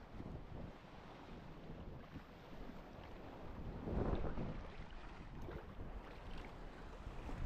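Waves wash continuously against the rocky beach coast of Rhodes, Greece, a soft, steady surf with a slightly stronger swell midway, mixed with wind buffeting the microphone.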